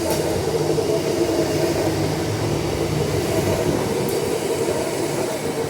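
Transperth A series electric train on the Perth airport line, rolling past in a steady, loud rumble with a continuous hum and faint rail clatter, no voices.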